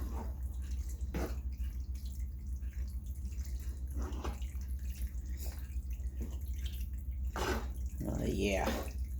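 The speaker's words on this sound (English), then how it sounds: "Gotta rinse this hand off." A hand rinsed under a running kitchen tap while making rasta pasta, with soft continuous water flow and scattered splashes and drips over a low hum, a louder gush near the end.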